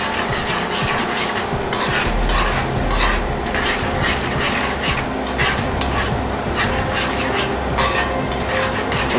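A spoon stirs brown stew gravy in a pot, with close, continuous scraping and rubbing of utensil against metal under a bubbling, frying hiss, no one speaking.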